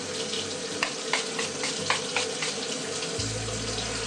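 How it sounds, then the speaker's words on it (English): Rose-scented toner water spritzed from a spray bottle onto a face during a night-time skincare routine, heard as several short hissing sprays over steady background noise. "now I'm just going to take my toner water and spritz my face"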